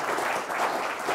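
A round of applause from an audience of business leaders at a corporate talk, dense steady clapping filling the whole moment without pause.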